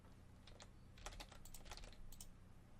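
Quick typing on a computer keyboard produces a short run of close, crisp key clicks, sparse at first and then a faster cluster of taps, faint and alone with no voices.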